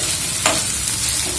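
Okra pieces frying in a pan, a loud, steady, hissing sizzle that fills the moment, with one brief scrape partway through and no speech.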